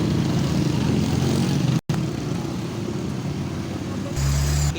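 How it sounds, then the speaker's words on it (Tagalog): Heavy afternoon traffic streams steadily along a busy road, with a continuous loud roar of many passing cars and a deep engine rumble near the end, while someone talks over it. "Kitang-kita ninyo naman yung mga sasakyan na mga dumada, no? Napakarami."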